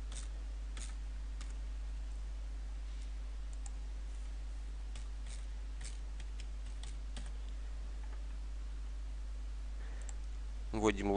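Login and password being typed on a computer keyboard, a run of faint scattered key clicks over a steady low hum, ending with a quicker cluster of keystrokes.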